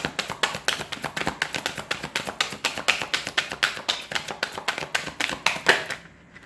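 Tarot deck shuffled by hand, a rapid, steady riffle of close papery taps that runs for several seconds and then stops abruptly into quiet.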